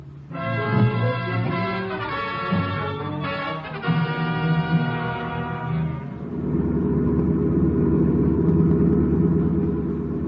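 A car engine drives hard during a chase, a steady mid-pitched roar that grows louder and rougher in the second half, with harmonic tones over it early on.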